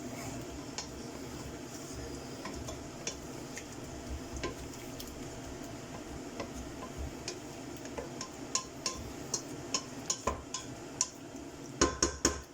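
Spoon clinking and scraping against a pot while fried tomato is stirred into a Spanish pork rib, chorizo, potato and lentil stew, with a steady simmering bed and irregular sharp metallic ticks that grow louder toward the end.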